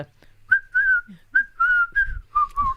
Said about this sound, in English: when I'm whistling on the bike